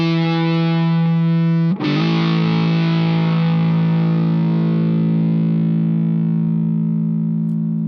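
Sustained electric guitar chord through a Boss SD-2 Dual OverDrive on its lead channel, thick, saturated and compressed, re-struck once near the start and then ringing out long and loud with slow decay.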